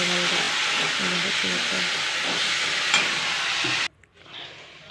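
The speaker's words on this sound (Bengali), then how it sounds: "মশলাটা কষে দিচ্ছে" Spice mixture frying and being stirred in a pan, a steady broadband sizzle with utensil scrapes and a faint voice underneath, cutting off abruptly near the end to near quiet.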